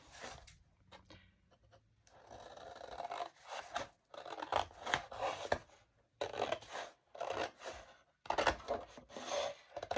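Paper is cut by hand for a handmade journal cover, the blades snipping and rasping in bursts of close, crisp strokes with brief pauses between cuts.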